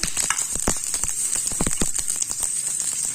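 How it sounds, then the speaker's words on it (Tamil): Slit red chillies sautéing in a hot pan, with steady oil sizzle and scattered sharp pops and crackles, close and continuous, with no talking. "லேசாக ஒரு கீரல் போட்டு நம்ம வதக்கணும் இல்லைன்னா வெடிச்சிரும்"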